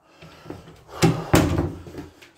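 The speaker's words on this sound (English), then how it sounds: "I'm going to close my bedroom door too." A bedroom door being closed indoors, heard as two sharp knocking thuds close together, loud and near, after a softer rustle and followed by a fading tail.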